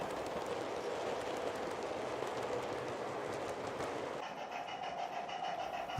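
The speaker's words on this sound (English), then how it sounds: "As Astania Jubilee heads an LMS passenger train through the platforms" An LMS passenger train hauled by a Jubilee steam locomotive runs through station platforms, a loud, continuous rumble and rattle of rolling stock that drops away near the end, leaving a lighter, fading ring.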